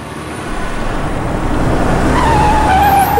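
Car under emergency braking, a loud close rush of road noise building as the tyres skid, with a thin squeal rising near the end.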